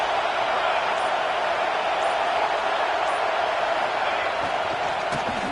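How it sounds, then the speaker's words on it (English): A football stadium crowd roars steadily to urge on the defense during a red zone stand. The dense, loud wash of noise holds throughout, with a commentator's voice faint beneath it. "And here comes the noise. This crowd is trying to inspire this defense to make a big red zone stop."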